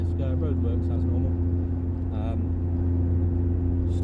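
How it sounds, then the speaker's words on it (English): A Mk2 Golf GTI 16v drones steadily on a road drive, its exhaust a constant low rumble throughout, with someone talking over it. "Exhaust sounds beautiful."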